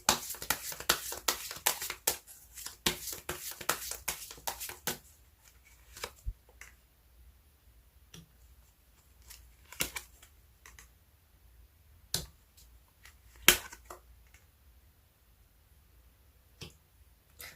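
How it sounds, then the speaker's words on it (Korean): Tarot cards shuffled and drawn for a reading: a rapid run of crisp card flicks and snaps, then sparse isolated taps and slides of cards laid down, close and quiet with no speech. "카드 뽑아보도록 할게요"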